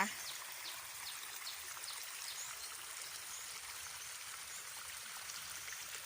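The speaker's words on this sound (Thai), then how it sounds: "ก็จะมีลำธาร อยู่ในห้วยนะคะ" A quiet, steady wash of a forest creek in the rainy season, like a small stream trickling over stones, continuous with faint fine splashing throughout.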